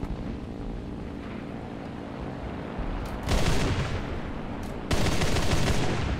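Bursts of automatic cannon or machine-gun fire in the War Thunder combat game, two loud sustained volleys over a rumbling engine and wind-like background.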